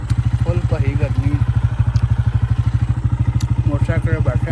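Motorcycle engine running close by, a loud, rapid, even thumping pulse throughout, with someone talking over it.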